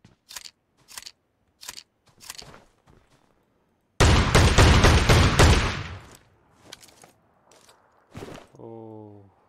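Several sharp, separate gunshot-like bangs from PUBG, then one loud, longer shotgun blast, with softer clicks and a brief rising electronic tone at the end.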